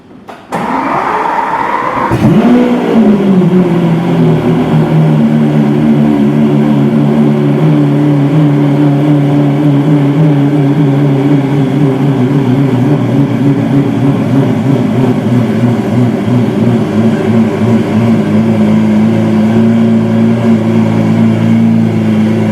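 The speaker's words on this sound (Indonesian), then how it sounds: "sekarang saya coba hidupin mesinnya sesuai permintaan dari diagnosis itu" A Lamborghini Aventador engine cranks, catches and settles into a loud, steady idle, with a slight rise in revs before holding constant, while the check engine light is on.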